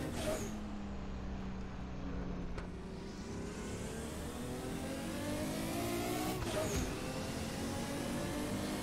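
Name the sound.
race car turbo wastegate in video game Assetto Corsa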